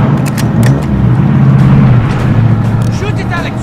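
An enemy suicide truck in the video game Modern Warfare roars close with a loud revving engine, heavily overlapped by shouting voices and a few sharp clicks.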